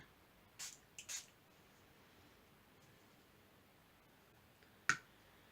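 Short squirts from a Brusho acrylic mist spray paint bottle: two quick hisses close together, then a single sharper spray a few seconds later, close and fairly quiet in an otherwise still room.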